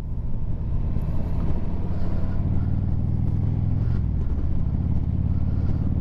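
A 2020 Harley-Davidson Street Glide Special motorcycle rumbles while riding, a loud, steady low engine drone with wind noise, close and continuous with slight swells in revs.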